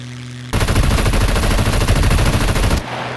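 Automatic gunfire in the video game Scum rattles off in a loud, sustained rapid burst lasting a couple of seconds, then cuts off abruptly, with no talking during the shots.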